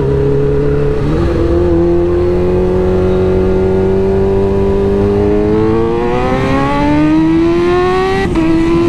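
Kawasaki H2 Carbon superbike accelerating hard, engine pitch climbing steadily through a gear, then a quick shift and a sharp rise again, loud and close throughout.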